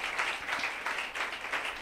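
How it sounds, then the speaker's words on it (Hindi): An audience at a Hindi-language religious talk claps together, a brief, fairly dense burst of hands with uneven pulses. "अपने लिए तालियां बजाएं।"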